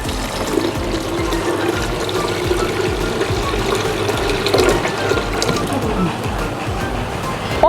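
Water pours steadily from a container into the cup of a 5-litre heavy-duty commercial blender already holding soybeans, a continuous close splashing fill lasting several seconds.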